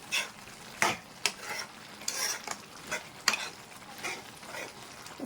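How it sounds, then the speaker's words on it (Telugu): Pounded coriander and garlic being stirred into a broad bean curry in a pan, a spoon scraping in several separate strokes over a soft background sizzle, close and fairly quiet. "దాన్ని వేసేస్తున్నాను ధనియాలు ఎల్లగడ్డ ఒకసారి ఇలా కలిపేస్తామండి"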